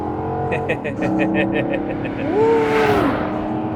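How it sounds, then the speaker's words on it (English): A Maserati four-door sport sedan engine revs hard under heavy throttle, a loud rising and falling roar with a tire-squeal-like sweep, as people talk over it inside the car. "it's just when you mash the gas, it's just too much fun"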